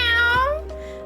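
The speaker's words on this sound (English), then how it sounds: "The cat calls the boy, demanding the treatment she always receives from him every night" A single drawn-out cat meow from the video game Coffee Talk, close and clear, its pitch sliding downward before fading into a quieter tonal tail.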